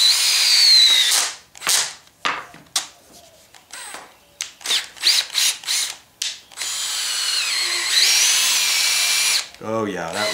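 A wire wheel spinning against bolt threads to clean off hardened thread lock and weld, heard in loud on-and-off bursts of whirring and scraping, with a rising whine at the end.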